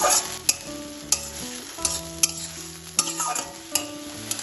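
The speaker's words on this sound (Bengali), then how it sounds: "তেলের সাথে এটা এবার ভালোভাবে কষিয়ে নিই" Onion paste, crushed garlic, tomato paste and crushed ginger sauté in oil for chicken paratha filling, sharp spatula scrapes and clicks landing in a regular beat over a constant close sizzle, no speech.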